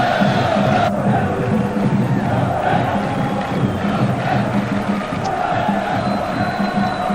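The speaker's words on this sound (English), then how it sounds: "playing in front of a crowd as noisy as this" Loud, dense roar of a football stadium crowd at a 1990–91 European Cup Winners' Cup quarter-final, Montpellier against Manchester United, sustained and swelling with chants and shouts throughout, no gaps or lulls.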